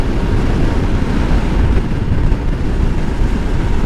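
Steady wind roar buffets the microphone on a Royal Enfield Himalayan ride on a chilly, blowy winter day, a loud continuous low rumble with no break throughout.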